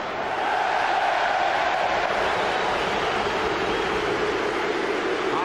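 Deafening roar of a full football stadium crowd at a Premier League match between Bolton Wanderers and Arsenal, a loud, dense, sustained wash of cheering and chanting that swells slightly after the first half second and holds steady throughout.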